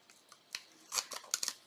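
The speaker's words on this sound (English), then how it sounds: "let me get my scissors and cut this so I can get it out of here" Scissors snip through fabric in a few quick, crisp cuts, close and fairly quiet, with no voices.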